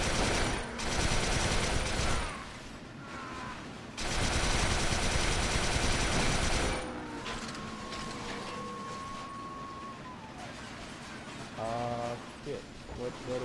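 Bursts of automatic gunfire in the Resistance 3 shooter game, two loud sustained volleys followed by quieter mechanical game sounds, tones and clatter, with a voice heard over parts of it.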